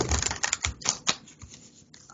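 Tarot cards being shuffled by hand, a quick run of close, crisp riffling snaps and taps that thin out into quieter rustles.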